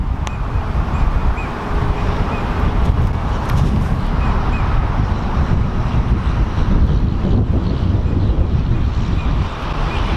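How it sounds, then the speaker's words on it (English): Loud, continuous wind buffeting the microphone with a deep rumbling roar on an open soccer field, steady throughout with no speech. "It's a bit windy out here"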